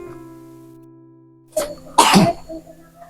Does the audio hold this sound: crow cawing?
no